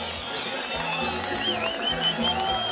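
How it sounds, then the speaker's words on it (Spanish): Concert crowd at a ranchero band show applauding and cheering, clapping spread across a large audience with a voice and musical tones mixed in. "el aplauso para ustedes."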